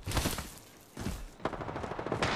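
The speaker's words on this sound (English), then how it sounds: "They're shooting at me." Enemy gunfire in a video game: rapid, crackling bursts of shots in several clusters, moderately loud and continuous, with brief lulls between volleys.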